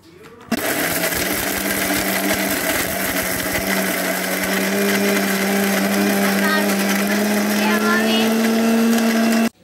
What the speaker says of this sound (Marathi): आपण मिक्सरला लावूया